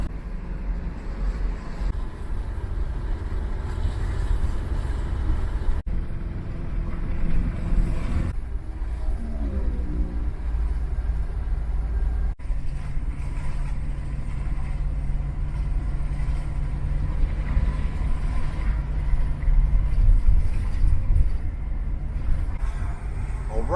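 A steady low engine rumble and road roar fill the cabin of an RV driving toward Orlando, with occasional clunks and rattles. A person talks briefly partway through.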